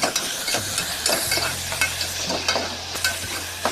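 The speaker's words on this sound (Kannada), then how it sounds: "ಆನಿಯನ್ ಸ್ವಲ್ಪ ಕೆಂಪು ತನಕ ಫ್ರೈ ಮಾಡಬೇಕು" Onions frying with mint in a hot pan for Hassan-style tomato bath, stirred with repeated scraping strokes over a steady sizzle, close and fairly loud, with no voices.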